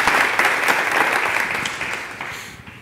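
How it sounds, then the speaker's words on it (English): Audience applause at a Chicago ideas forum capstone event greets a guest, a dense, loud wash of clapping that gradually tapers off near the end. "big hand of applause for Will"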